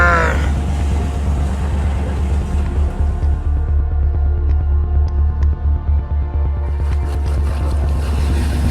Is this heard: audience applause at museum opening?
no